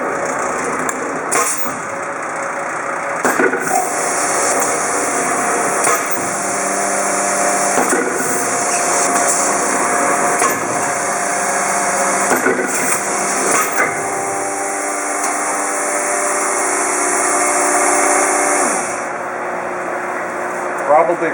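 A Kluge platen press running with its adjustable dwell engaged, a loud steady mechanical hum punctuated by repeated heavy knocks as the platen closes, with a person talking over the machinery.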